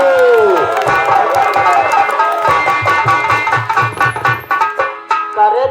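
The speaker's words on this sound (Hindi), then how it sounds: "बजाओ ताली।" An audience at a nautanki folk theatre performance claps and cheers in a loud, dense crowd burst, with tabla-like drumming and shouting mixed in. The clapping thins into scattered bursts toward the end.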